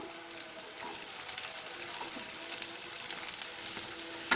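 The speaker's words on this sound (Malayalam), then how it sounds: "അപ്പോഴേക്കും നമുക്ക് ഈ സവാള കൂടി അങ്ങ് ഇട്ട് കൊടുക്കാം." Sliced onion goes into a pan of frying green chillies, giving a steady, moderately quiet sizzle and hiss with a few faint spoon clicks, heard without any voices.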